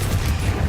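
A Confringo fire-blast spell cast in the video game Hogwarts Legacy: a loud, dense explosive burst with heavy low rumble that fills the whole short moment without letting up, with no voices over it.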